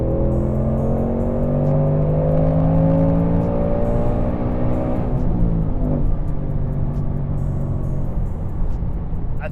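A supercharged 2024 Ford Mustang with a Whipple supercharger pulls hard in fourth gear around 78 mph, its loud engine note climbing steadily in pitch with a whining whir over a deep rumble, heard from inside the car.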